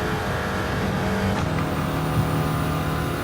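A hard-revving flat-four car engine runs flat out up a hill on a race track, a constant loud drone with a brief tyre-like squeal partway through.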